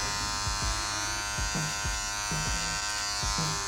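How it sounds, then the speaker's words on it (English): Electric hair clippers buzz steadily and close up, cutting hair over a flat-laid comb during a gentleman's haircut, with short repeated passes giving a rhythmic rise and dip to the hum. "down below here is where I'm gonna lay my comb flat and clipper over comb that away"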